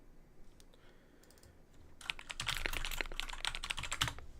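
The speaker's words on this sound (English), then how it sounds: "I'm kind of like typing stuff for tomorrow" Fast typing on a computer keyboard, close and fairly loud, a dense run of clicks starting after a couple of seconds of quiet room hiss with a few scattered taps.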